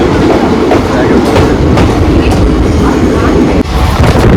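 A Howrah–Sahibganj Intercity Express train rumbles steadily along the tracks past Ahmedpur Junction, loud and close, with a continuous low roar and faint rhythmic clatter of wheels.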